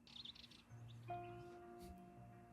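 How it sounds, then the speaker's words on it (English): Quiet birdsong opens a song recording, with a few short chirps and tweets over faint sustained tones, soft and somewhat distant. "Starting with some birds, all right."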